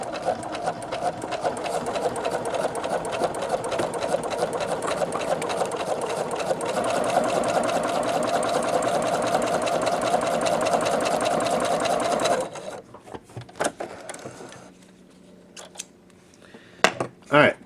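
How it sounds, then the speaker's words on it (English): A Singer Futura XL 550 sewing machine stitches faux leather in a fast, steady mechanical whir for about twelve seconds, then stops, leaving quieter handling clicks and rustles close by. "Let me sew on this side."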